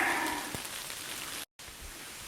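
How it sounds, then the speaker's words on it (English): Steady rain falling outdoors on a long-distance hiking trail, a dense close hiss of drops that cuts out briefly before resuming. "Of course, it's raining."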